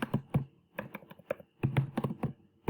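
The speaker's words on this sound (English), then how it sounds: "then from here let's type the header" Fingers typing on a computer keyboard while entering a table header in a word processor, with close, crisp key taps in short bursts separated by brief pauses.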